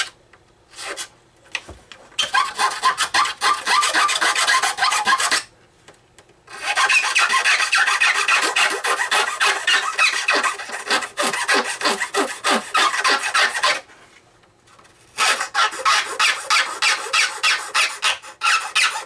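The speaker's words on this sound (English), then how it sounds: "clean up now with the jeweler file." Rasping strokes of a jeweler's file on a Deans Marine SS Mellenie model ship, loud and close, in three long bursts of steady back-and-forth filing separated by short pauses.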